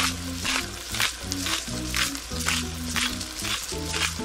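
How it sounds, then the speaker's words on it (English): Tomatoes, onions and garlic fry in a pan for pasta alla Norma, a steady close sizzle with pulsing bursts of spitting, heard alone with no talk over it. "we're cooking the tomatoes and the onions and the garlic"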